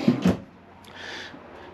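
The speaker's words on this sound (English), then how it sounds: "you've got your big pull-out drawers in here as well" A big pull-out drawer in the kitchen of a 2022 Keystone Springdale Mini 1750RD travel trailer gives two quick knocking thumps, followed by a soft sliding rumble, close and brief.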